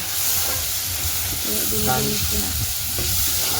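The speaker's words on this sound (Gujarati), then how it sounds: "તો શાક વંગારીએ ડુંગળીને બે વંગારવા માટે" Onions are tempered and fried in a pan, giving a steady, close crackling sizzle throughout. A faint voice murmurs in the middle under the frying.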